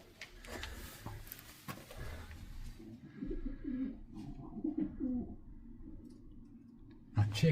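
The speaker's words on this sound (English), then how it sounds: "No way, there's a chick being hatched right now." Pigeons in a church bell tower, with a newly hatched chick and its mother, give soft coos and fluttery clicks close by, interspersed with rustling and scuffing movement.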